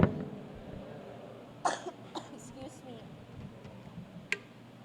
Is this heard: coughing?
yes